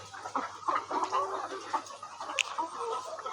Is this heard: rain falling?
no